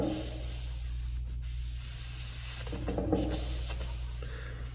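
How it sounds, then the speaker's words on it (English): Magic eraser sponge rubbed up and down a wooden pool cue shaft, a soft continuous scrubbing hiss over a low steady hum, close by, growing slightly stronger toward the end. "I'll work it some more up and down the shaft with this, using this magic eraser."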